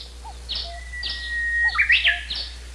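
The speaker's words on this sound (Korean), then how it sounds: "또다시 새소리가 울렸다" Bird calls in a Korean radio drama of a mountain hike: several short, bright chirps and one long thin whistle, fairly close and clear over a quiet background, with no voices.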